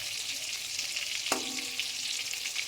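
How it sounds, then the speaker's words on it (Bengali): Large prawns frying in oil over medium heat, a soft, continuous hiss with a faint crackle. A single clear knock sounds midway, and no one talks. "হালকা মিডিয়ামে দিয়ে আমি চিংড়ি মাছগুলো ভেজে নেব লাল লাল করে"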